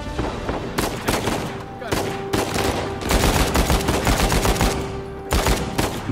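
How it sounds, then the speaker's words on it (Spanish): Heavy gunfire in the Uncharted 4 video game, with loud, rapid bursts of shots repeating throughout and a voice briefly heard under the shooting. "Ahí está, bien, disparo a la cabeza"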